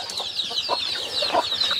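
Young chickens, two to three months old, cluck softly while pecking at melon, short close calls repeating over a brief moment with no talking.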